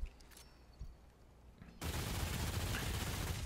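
Gunfire with an incendiary ammo mod in the video game Remnant 2: a couple of faint isolated shots, then a loud sustained dense burst of fire and crackle filling the last half of the clip.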